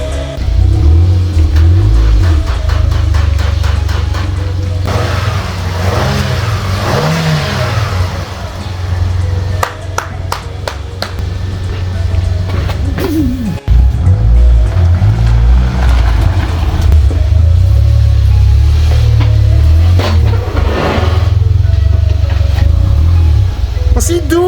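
A 2-litre turbocharged four-cylinder Fiat engine rumbles loudly and revs up and down repeatedly, close by, with a brief drop midway and muffled voices beneath.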